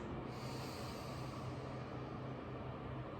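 A long, steady breath drawn in through the nose during a Pilates exercise, a soft continuous airy hiss heard close and alone.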